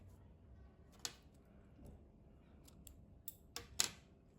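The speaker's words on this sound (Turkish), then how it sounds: "İplik kesiyorum." Scissors snip through knitting yarn in a few quiet, brief clicks against soft background noise, close up with no talking.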